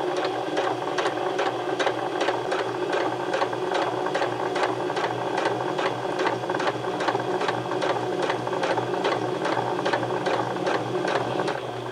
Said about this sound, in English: press down on your foot pedal, and you're going to sew from the beginning